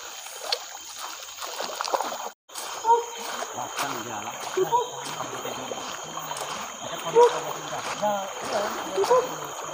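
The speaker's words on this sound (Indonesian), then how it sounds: "Itu anak sungai." Small forest stream running over many rocks in a Kalimantan jungle, a continuous splashing, gurgling flow heard close by, with people talking quietly now and then over the water.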